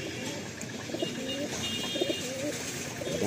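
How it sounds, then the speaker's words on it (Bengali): Punjabi pigeons coo in a loft, their soft repeated rolling calls overlapping at close range against a faint background murmur. "এগুলো সব পাঞ্জাবি পায়রা আছে।"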